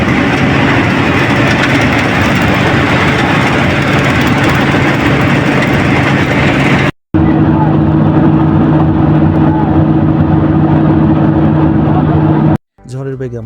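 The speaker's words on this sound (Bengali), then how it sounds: "ফ্রন্ট ভিউ থেকে আপনাদের বাসের ইঞ্জিন সাউন্ডটা শোনার চেষ্টা করুন" A bus engine drones steadily on a highway between Dhaka and Khulna, heard from the front. The loud, constant hum and road rumble break off briefly twice in abrupt cuts, with a low tonal engine note in the middle stretch.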